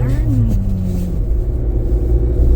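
A Škoda car engine accelerating while driving, a steady low rumble with a rising tone early on that holds loud and continuous throughout.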